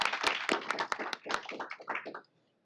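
An audience at a state board of education meeting claps in a brief round of applause. Hands patter densely at first, then thin out and stop after a couple of seconds, in a quiet indoor room.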